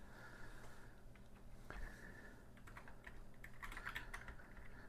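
Keys clatter on an Atari Mega ST keyboard in steady, close-up typing with a crisp, snappy tactile action, growing into a denser burst of presses near the end.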